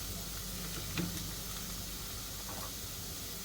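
Onion and garlic frying in a pan for spaghetti, a steady soft sizzle running throughout with a brief stir or clink near the middle, close and alone without talk.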